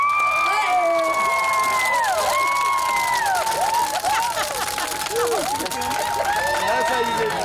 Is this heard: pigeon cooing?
no